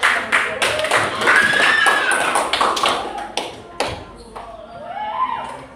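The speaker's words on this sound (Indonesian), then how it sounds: "Kasih tepuk tangannya itu." A small group claps at the end of a classroom presentation in a school lesson. The clapping is irregular and moderately close, mixed with taps and thumps, and voices are heard talking over it throughout.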